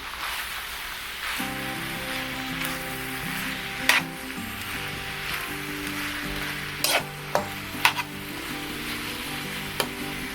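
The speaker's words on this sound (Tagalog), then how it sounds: "Haluin lang ng haluin hanggang sa maluto yung ating gulay." Spam and pechay fry in a pan under a constant loud sizzle, with scraping and clinking from a utensil as the mix is stirred, including several sharper knocks against the pan.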